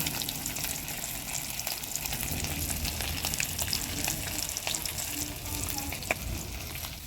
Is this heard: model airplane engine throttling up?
no